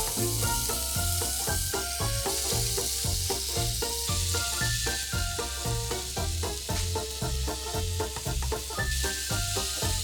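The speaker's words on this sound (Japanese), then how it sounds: "他の野菜も全部炒めて" Potatoes and other vegetables stir-fried in a small frying pan: a steady sizzle lasts throughout, partly masked by rhythmic background music.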